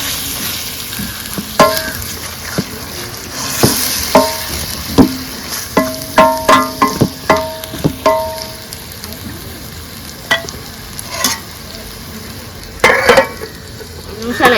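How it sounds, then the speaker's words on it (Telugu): Boti (tripe) curry being stirred in a cooking pot, with a spoon scraping and clinking against the metal in uneven bursts over a steady sizzle, close and clear, with no voices. "పక్కన పెట్టుకున్న బోటీని ఇందులో వేసేసేద్దాం. కొంచెం ఇది కలిసే వరకు తిప్పుకొని"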